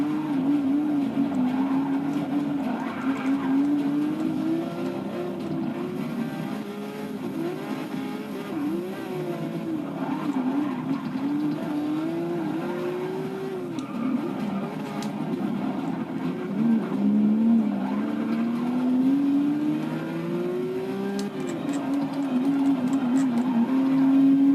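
A Porsche race car in Forza 6 drones steadily at high revs, its engine pitch rising and dipping through gear changes and corners, loud and continuous without talk.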